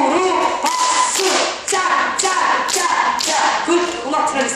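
Seated seniors clapping their knees in a couple dance routine, a run of sharp, loud slaps in a lively rhythm with a brief pause midway, close by.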